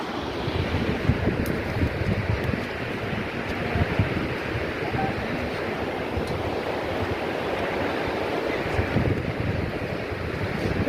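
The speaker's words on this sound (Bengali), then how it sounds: "নদীর আওয়াজ পাওয়া যাচ্ছে" A river in Kullu, Himachal Pradesh, heard from a swaying bridge: steady rushing water noise with gusty wind across the whole stretch, a continuous broadband wash without clear breaks.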